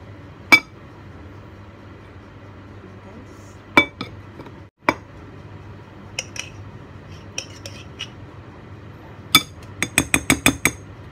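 A utensil clinks against a bowl while banana bread batter with peanut butter is mixed, giving sparse sharp taps early on and then a quick run of rapid clinks near the end, over a quiet kitchen background.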